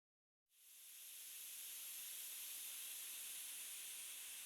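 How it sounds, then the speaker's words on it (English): Steam bursts out as a door swings open onto a hall leading to bathing waters, a sudden loud hiss that swells in and holds as a steady, close, broadband rush with no voices. "a flood of steam erupts into the hall"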